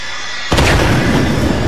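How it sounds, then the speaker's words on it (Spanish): A sudden loud explosion in the video game State of Decay 2 bursts in after half a second of quiet, followed by a sustained roaring rumble of debris and noise. "Explosión."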